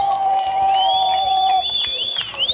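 A crowd in Mwanza applauds and cheers for Dr. Samia Suluhu Hassan, dense clapping and shouts under a loud tonal sound system, all at close range for a few seconds.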